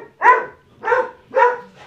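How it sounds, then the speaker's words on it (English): Three loud, close dog barks in a steady rhythm, each short and sharp, with no talking over them. "What are the doggies doing?"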